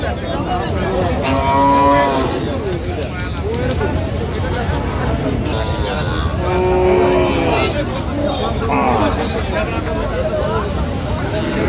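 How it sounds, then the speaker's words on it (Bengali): Cattle moo repeatedly at a livestock market, long low bellows rising above a steady hubbub of crowd chatter, bargaining and background noise. "শুকনো হাড্ডি সার গরুগুলো কিনছেন মাজারুল ভাই"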